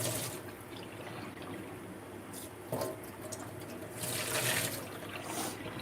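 Water runs steadily from a tap in a fish room as an aquarium filter gets a final rinse, a continuous close splashing flow that swells louder near the end, with no talking.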